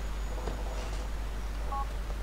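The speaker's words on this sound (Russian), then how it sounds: "О, Фрэнсис прислал смс-ку." Short text-message alert from a cell phone in the video game Grand Theft Auto IV. A brief pair of electronic beeps sounds near the end over a steady low in-game hum, with no talking.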